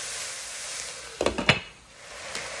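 Bottle gourd milk curry stirred in a pan, a short cluster of close spoon scrapes and knocks over a faint steady hiss, then quiet.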